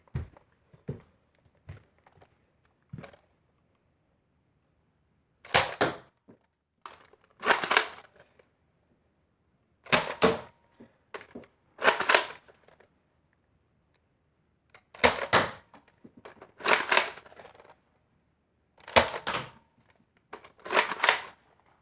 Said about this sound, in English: I'm going to be firing all of these, starting off with the rough cut.